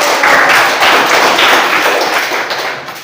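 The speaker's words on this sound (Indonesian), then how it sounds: "Kita beri tepuk tangan dulu" A classroom of students claps steadily in loud, dense applause for a few seconds, fading slightly toward the end.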